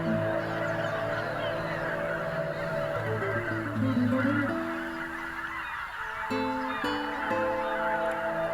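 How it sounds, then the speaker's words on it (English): A large flock of wild geese honks in spring in the Biebrza marshes, a dense chorus of overlapping nasal calls with a few louder individual honks standing out near the end. "The return of geese means another spring has come. Again, they form impressive loud flocks, counting thousands of individuals."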